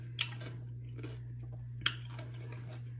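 Crunchy cucumber snack being chewed close to the mic, a few quiet bites and crunches over a steady low hum.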